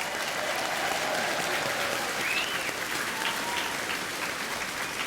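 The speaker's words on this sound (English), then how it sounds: "join together in a warm round of applause for the members of the Marine Corps Band, New Orleans" At the 2017 Rex Ball in New Orleans, an audience gives warm applause for a Marine Corps band. The clapping is dense and sustained and comes from a large crowd at a moderate distance.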